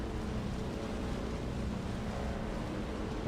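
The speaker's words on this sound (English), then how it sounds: "Oh, loud ass motor." A loud vehicle motor in the video game Dune: Awakening, a dense, steady engine roar that stays constant and close for the whole stretch, with no voices over it.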